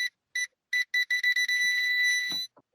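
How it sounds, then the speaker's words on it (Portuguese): A car alarm chirps as a car is started, giving a string of short, fairly loud electronic beeps that run together into one sustained tone before stopping, heard alone with no talking. "esse barulho que vocês estão ouvindo agora, eu vou deixar na edição, é o João ligando o carro dele"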